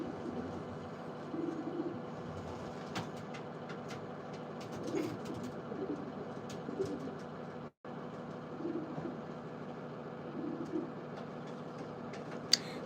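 Pigeons coo softly and steadily inside a loft, a low murmuring bed of overlapping calls with faint clicks and scattered higher chirps, with no talk over it.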